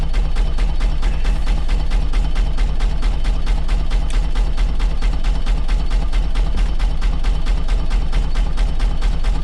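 A Farymann A30M 12-horsepower marine diesel aboard a boat runs steadily, its fast, regular knocking beat close and constant for the whole stretch, with no talk over it.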